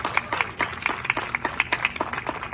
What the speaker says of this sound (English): I think that's worthy of applause.